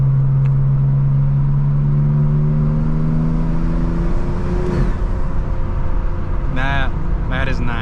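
A 2025 BMW M4 Competition with the S58 engine and ARMS Motorsports carbon fiber intakes revs, then its droning engine tone slides down as the revs fall. A steady, loud rumble continues beneath, with sharp chirps near the end.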